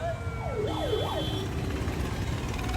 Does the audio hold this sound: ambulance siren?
yes